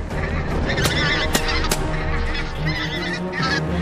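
Geese honk loudly and close as a flock flies in over a goose hunt in Scotland, with overlapping calls that sharpen into a few prominent honks.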